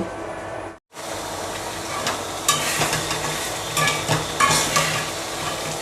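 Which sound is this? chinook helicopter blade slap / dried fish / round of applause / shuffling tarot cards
dried fish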